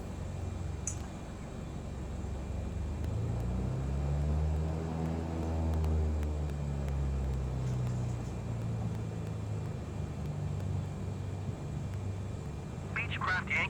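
A Beechcraft airplane taking off on runway 8, its engine and propeller drone loud and steady as it rolls, with a rising then falling tone sweeping through and radio-style voices talking over it.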